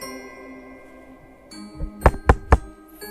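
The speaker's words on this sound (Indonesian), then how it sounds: "mereka dikejutkan suara ketukan sebanyak 2 kali pada pintu" A horror-story sound effect of knocking on a door: three sharp, loud knocks in quick even succession over a low, steady humming background.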